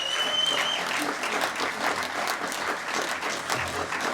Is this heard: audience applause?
yes